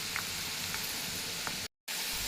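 Potato pieces fry in a pan with a continuous close sizzle and a few faint clinks, then cut off briefly to silence before the sizzling resumes.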